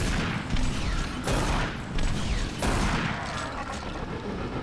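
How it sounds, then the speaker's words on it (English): Shotgun blasts from Doom 3 BFG Edition fire at a steady pace, about four loud, broad booms over constant noisy game ambience. "We'll take care of him with the shotgun."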